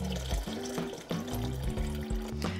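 Whey from homemade cheese running out as the curd is squeezed in a white cloth, a steady close splashing trickle of liquid with uneven surges, heard alone with no talk.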